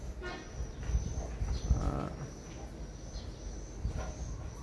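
A young American breeding bull of the tall, long-bodied cattle type gives a moo, with low animal vocal sounds close by over a constant background hum on a farm.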